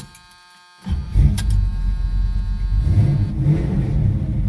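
A second-generation Camaro or Firebird V8 cranks and catches after a quiet moment, then settles into a loud, deep rumbling idle with a few blips of revving.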